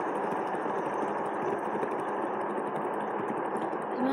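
A fidget spinner whirring steadily at high speed, a sustained close buzzing hum with no talking, holding an even level throughout.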